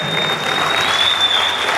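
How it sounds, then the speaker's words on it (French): Audience applauding at the Kiyenna America Award 2023 ceremony in the Palais des Congrès in Kara, Togo: steady, dense clapping from a large crowd filling the whole stretch at an even level. "On applaudit encore."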